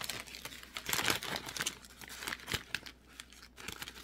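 Plastic bag crinkling close up as an item is slipped back inside: dense, irregular rustling and crackling bursts for several seconds, with no talking.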